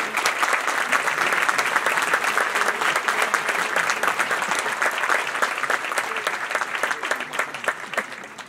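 A large audience at an award ceremony for tabla player Ustad Zakir Hussain breaks into sustained, vigorous applause, thick and even for several seconds, with a faint murmur of voices underneath.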